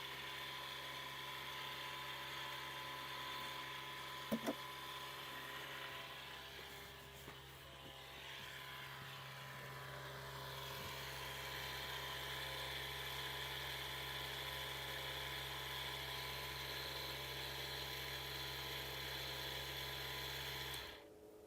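A water pump in a DIY greenhouse controller setup runs steadily with a constant mechanical hum and whine throughout, joined by a brief click and some faint handling noise before it cuts off at the very end.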